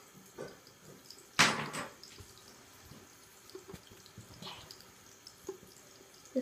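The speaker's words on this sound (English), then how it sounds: "Turn off the water." Tap water runs into a bathroom sink during a morning face-washing routine, a faint steady trickle broken by a sharp splash and a few softer drips and patting sounds close by.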